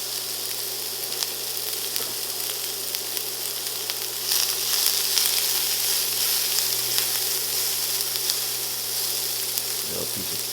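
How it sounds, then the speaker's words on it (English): Peppers and onions sizzle in a hot skillet with a constant, close frying hiss. A swell of crackle comes partway through and a couple of light utensil knocks sound near the end. "get it nice and hot, and then we're gonna drop our peppers and onions in"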